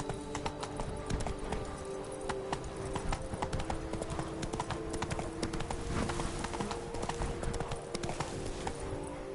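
Steady clip-clop of the horse Roach galloping in The Witcher 3, a brisk continuous hoofbeat rhythm with game ambience underneath, no talking.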